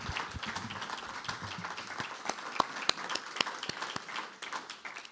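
Warm applause from a seated audience for a faculty presenter, a continuous patter with a few sharp, distinct claps standing out close by.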